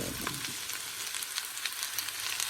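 Vegetables with fried onion sizzle faintly in a pan while being turned over, a soft continuous hiss with light scattered scrapes.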